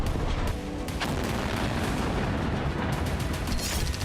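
Heavy bombardment in Gaza roars as a dense, continuous rumble of blasts and gunfire, loud and unbroken for the whole stretch with no voices.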